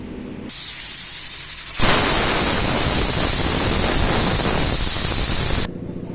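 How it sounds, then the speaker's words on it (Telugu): A pressure cooker holding dal on a stove vents steam in a loud, steady hiss that starts abruptly, swells stronger after a couple of seconds and then cuts off near the end. "మూత పెట్టుకొని రెండు మూడు విజిల్స్ వచ్చే వరకు స్టవ్ మీద పెట్టుకోవాలి"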